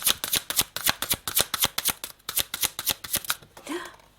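Tarot cards shuffled in a fast, steady run of crisp riffling snaps, close and clear, ending as a card is drawn with a soft slide and a brief swell of sound.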